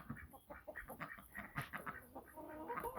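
Farmyard ducks kept in a pen apart from the chickens, quacking and calling over one another in a busy, continuous cluster close by, mixed with other poultry chatter.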